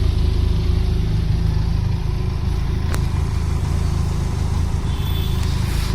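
A Benelli TRK 502X motorcycle idles close by, its exhaust note a steady, even low rumble that holds throughout with no revving, broken only by one brief click midway.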